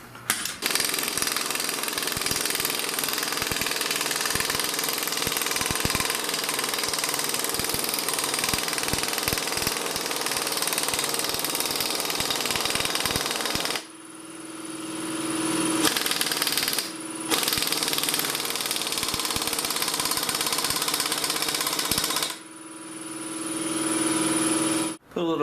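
A pneumatic impact wrench, turned down slightly, runs nearly continuously while fitting the pinion on a GM 9.25 front differential for a 3/4- and 1-ton Chevy or GMC truck, with loud dense hammering that breaks off briefly twice.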